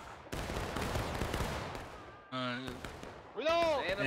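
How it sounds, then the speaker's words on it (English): A musket volley in the War of Rights video game sounds as a long rolling crackle of many shots. It fades into brief tonal in-game sounds and voices. "And devastating volley there from the 42nd."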